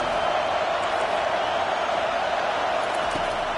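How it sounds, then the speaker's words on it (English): Football stadium crowd at a Nebraska vs Tennessee college football playoff game, a steady, dense roar of many voices with no distinct peaks, filling the whole moment. "Listen to the crowd energy here in the early going."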